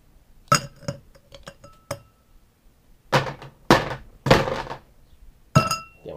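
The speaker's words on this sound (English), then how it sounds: "I'm going to take some ice. Add that to your" Ice cubes drop into a cocktail glass in several separate bursts, each a close, sharp clink and thunk followed by quick rattling, with quiet gaps in between.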